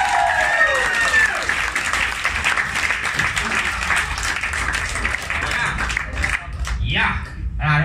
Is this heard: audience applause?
yes